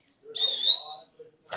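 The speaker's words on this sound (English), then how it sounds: "Maybe I'll whistle at him." A woman gives a single loud, sharp whistle, a high piercing tone that rises slightly and holds for under a second, followed by a brief breathy sound at the end.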